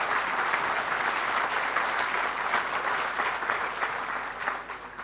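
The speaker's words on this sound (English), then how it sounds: "just give them a quick round of applause, please" Sustained applause from a conference audience for a panel of speakers at an emergency-response event, a dense steady wash of many hands clapping for about five seconds, easing slightly at the end.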